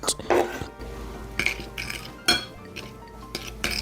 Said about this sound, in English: then we're gonna stir it all up after that